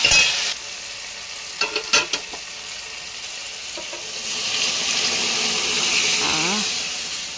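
Cooked dal and rice for vegetarian khichuri stir and sizzle in a hot pan, with a steady hissing fry, a few sharp scraping stirs early on and a rising steamy sizzle toward the end, close and with no talk.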